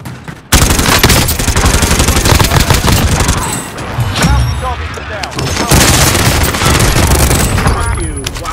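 Loud, close pistol shots crack out in rapid bursts during a Call of Duty Warzone firefight, with a dense, booming barrage that pauses briefly mid-way and then resumes.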